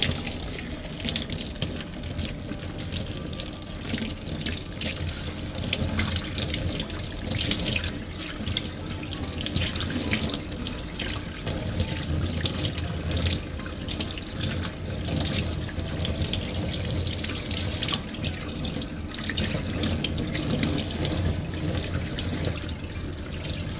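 Tap water runs steadily and fairly loud while natural 4C hair is rinsed on wash day, a continuous splashing wash with small shifts as the stream hits hair and basin, no talking.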